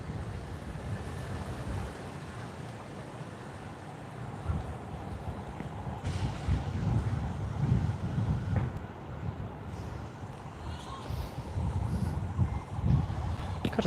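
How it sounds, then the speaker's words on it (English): Gusty outdoor wind buffeting the microphone in Ho Chi Minh City, a loud low rumble that swells and drops in uneven waves, with no talk over it. "It's actually quite windy"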